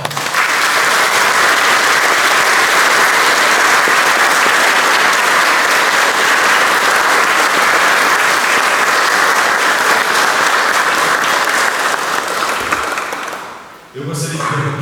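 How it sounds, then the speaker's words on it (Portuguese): A crowd applauds loudly and steadily for the newly instituted presbytery at a church ceremony, sustained clapping that fades out near the end, where a brief voice follows. "eu acho que eles merecem uma bela salva de palmas"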